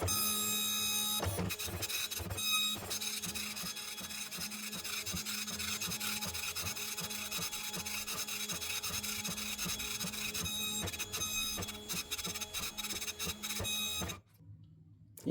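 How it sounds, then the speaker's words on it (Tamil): An 80-column dot matrix printer prints a report with a continuous dense buzzing rasp and rapid head chatter, loud and close, running steadily for about fourteen seconds before stopping abruptly. "இங்கே பாருங்கள், பிரிண்டர் பிரிண்ட் பண்ணவும் ஆரம்பிச்சிருச்சு"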